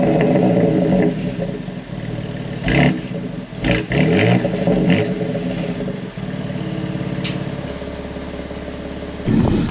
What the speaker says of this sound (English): Alright guys, that's number one, the exhaust.